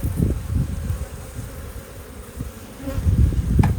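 Honey bees buzz in a dense, close drone while a hive is being split, the hum swelling and fading as insects pass near, with no talking.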